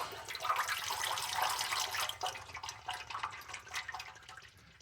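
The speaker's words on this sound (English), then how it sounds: "it drains out through the filter rather than it all coming out of the pump itself" Diesel transmission fluid drains out through a pulled filter, a continuous trickling, splashing stream with irregular drips and gurgles, fairly close and alone.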